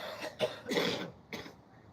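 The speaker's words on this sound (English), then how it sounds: "We can all cough in unison now." Several close, hoarse coughs in quick succession, loud and raspy, with a throat-clearing quality.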